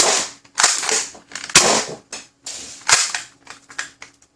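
An Adventure Force Brute Pro pump-action dart blaster is handled and primed, giving a string of sharp plastic clacks and sliding clicks, close and loud, in irregular bursts with brief pauses between.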